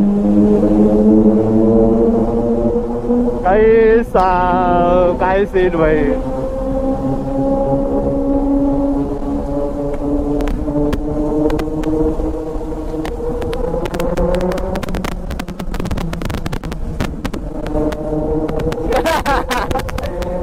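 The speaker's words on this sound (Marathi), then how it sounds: "आपण आता आवाज ऐकणार आहे टनल मध्ये Z900चा" A Kawasaki Z900 motorcycle roars inside the Kashedi tunnel, its exhaust booming loud and sustained with echoing reverberation and rising revs, while a man briefly exclaims over it.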